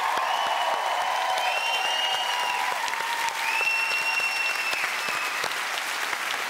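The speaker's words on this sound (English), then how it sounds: "Let's hear it once again for Rebecca Ferguson and Jayne Torvill" Steady, enthusiastic applause from a large ice-skating show audience for Jayne Torvill and Christopher Dean, with a faint musical tone sustained underneath throughout.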